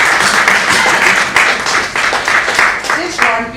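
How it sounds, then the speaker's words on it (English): Audience applause at a literary conversation event with Bhavna Roy, a dense, steady wash of many hands clapping, fairly loud and close, holding throughout before thinning at the very end. "A huge round of applause, everyone."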